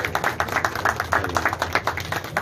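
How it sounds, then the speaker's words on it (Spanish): An audience applauds, a fairly quiet burst of many hands clapping in an irregular patter that keeps going for a few seconds. "Un aplauso pido para él porque eso es todo."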